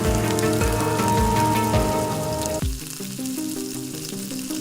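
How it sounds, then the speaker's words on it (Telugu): Okra frying in tempering oil in a pan, a loud, dense sizzle that crackles steadily and then drops to a quieter, thinner hiss partway through. "ఐదు నిమిషాలు ఈ పోపులో ఈ బెండకాయని ఫ్రై చేసుకోవాలి"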